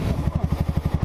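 A Honda Fan 160 motorcycle engine revs on a steep rocky uphill trail. Its close, loud, low single-cylinder thumping comes in fast, even pulses that quicken slightly over about a second, with no talk over it.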